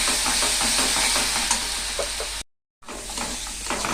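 Spice paste frying in a pan, a steady close sizzle with scraping and stirring sounds, broken by a short complete silence partway through before the frying resumes.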